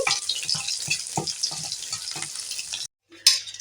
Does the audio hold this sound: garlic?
yes